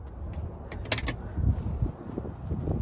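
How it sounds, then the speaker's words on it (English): Door of a 2018 Polaris RZR RS1 side-by-side being opened: a few sharp metallic clicks and latch rattles in quick succession, followed by softer shuffling and handling noise, close and moderately quiet. "So you open the door like this."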